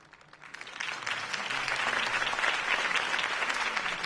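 Sustained applause from a large crowd, rising quickly after a quiet start and holding steady and loud throughout.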